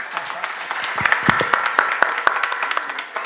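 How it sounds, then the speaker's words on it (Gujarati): An audience claps for Bimal Barot, director of a drama, with dense, close applause lasting a few seconds and a voice speaking over it. "કન્સેપ્ટ બિમલ માટે જોરદાર પહેલા તાળી"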